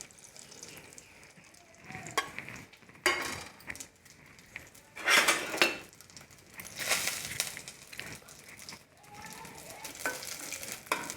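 Poppy seeds and cardamom frying in ghee, with a quiet sizzle and intermittent bursts of stirring and scraping in the pan, heard close with no voices.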